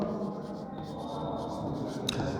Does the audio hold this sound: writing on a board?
yes